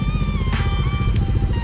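A Bajaj Dominar 250 motorcycle being ridden gives a loud, steady engine drone with a rapid pulsing rhythm and a high whine, close to the microphone and alone without talk.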